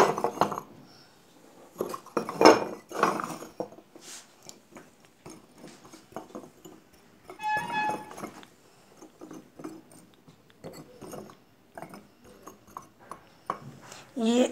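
A clay pot is broken into pieces for packing, giving scattered hard clinks and cracking knocks of fired clay fragments amid handling noise, with a person talking in between.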